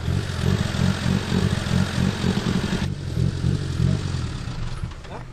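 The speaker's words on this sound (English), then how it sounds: "Spike the engine." A rally car engine with a ruptured sump revs in a rough, rhythmic pulsing drone, loud and close with clattering overtones, dipping slightly partway through and easing off at the end; no voices are heard.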